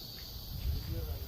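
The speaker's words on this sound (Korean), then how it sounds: "매미 소리가 들리고." A faint, steady high-pitched drone of cicadas hums in the distance under low rumbling background noise.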